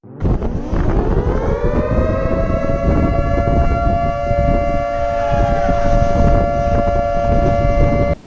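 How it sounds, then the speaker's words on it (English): A loud emergency tornado siren in Kentucky rises and then holds a steady wailing tone, sustained and dominant throughout with no voices. "Emergency sirens activated."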